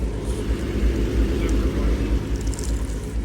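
A 1973 Ford Econoline 100 van idling nearby, a steady low rumble that stays constant throughout, with no talking over it.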